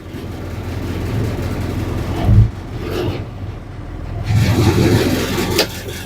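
A medium six-wheel truck fitted with a 3-ton crane runs its engine up close, a loud rumbling idle with a couple of throttle surges, the strongest late in the clip.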